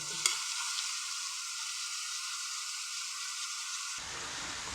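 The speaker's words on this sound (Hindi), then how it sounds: "ये गाजरों को अच्छी तरह ऑयल में मिक्स किया है।" Grated carrots being stirred in oil for carrot halwa, a soft steady sizzle with faint scraping that drops away near the end, close and quiet.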